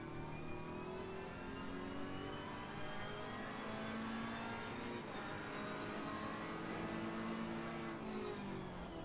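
A GT race car drifts in the Assetto Corsa Competizione racing game, its engine droning steadily at mid pitch with sustained tire and engine whine, fairly quiet and even across the run, no talking.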